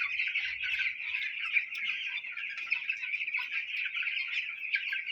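A crowd of chickens on a poultry farm keeps up a continuous dense clucking, steady and fairly close throughout with no talk.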